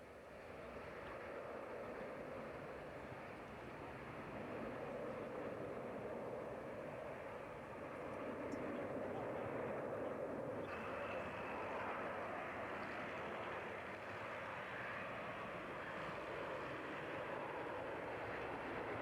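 A large new airliner taking off at the Farnborough 94 airshow, a distant, steady broadband jet roar that swells slightly midway and holds at a moderate, faint level.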